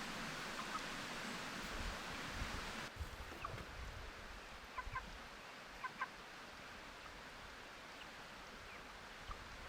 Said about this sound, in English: So this is the chicken Hopalong.